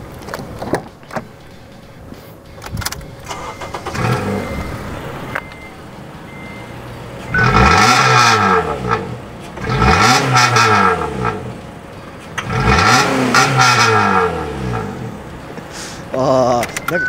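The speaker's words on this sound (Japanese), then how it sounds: "でも踏むとめっちゃ音するよね、バーンっていうから。" A Honda Odyssey RB3 with a straight-through rear exhaust revs hard in three loud bursts, each rising and falling as the engine climbs and drops back, with quieter idle in between and people talking early on.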